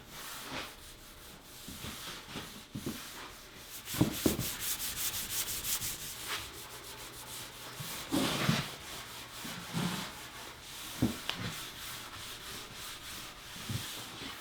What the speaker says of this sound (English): Now I'll simply rub the finish in the direction of the grain.